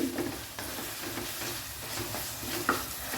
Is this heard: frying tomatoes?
yes